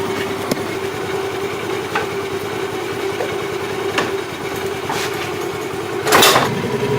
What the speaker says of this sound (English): now adjust the idling of your scooter like I am doing.